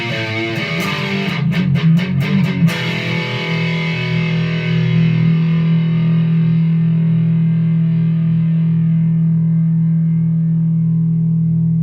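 A Gibson Les Paul electric guitar through heavy distortion plays a few choppy strummed chords, then a loud chord rings out and sustains, slowly fading.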